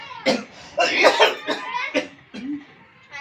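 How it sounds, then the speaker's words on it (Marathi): A man coughs in several harsh bursts, close to the microphone, with short pauses between the fits. "किती खोकला यायलाय."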